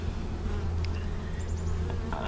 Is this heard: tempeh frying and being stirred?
no